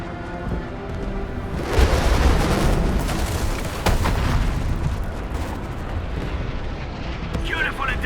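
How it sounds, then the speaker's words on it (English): Artillery barrage from the UWST striking a marked area in the video game Arknights: Endfield, a loud sustained rumble of blasts with a heavy onset near two seconds and continuous booming through the rest. "The UWST will fire at where you've marked."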